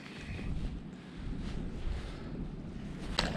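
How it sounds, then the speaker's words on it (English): Strong, steady wind roars and buffets across open water during a pike fishing trip, a constant low rumble with no shelter and a faint click near the end. "Wind is awful."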